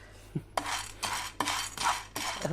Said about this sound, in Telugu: నేను షెఫ్ లాగా ఫీల్ అయిపోతానండి ఇట్లా పాన్ని ఎగరేసేటప్పుడు